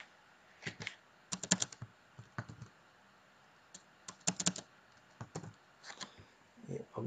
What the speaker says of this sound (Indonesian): Kita ketik teks kurung kurawal skor.